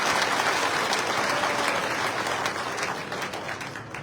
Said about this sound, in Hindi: जोरदार तालियां बजाकर जरा मोदी जी का आवाज सुनते